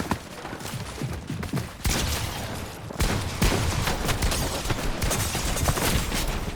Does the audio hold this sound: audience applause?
no